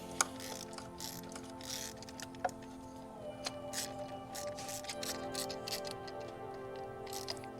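Hand ratchet clicking in quick, steady bursts while loosely running spark plugs into a 2015 Mustang EcoBoost engine, close and fairly quiet, with a few sharper metallic knocks; no talking.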